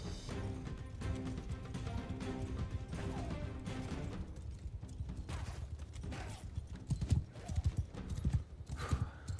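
Horses' hooves clip-clop in Mount & Blade Bannerlord, a dense, continuous clatter of galloping with a neigh, over battle noise that grows busier toward the end.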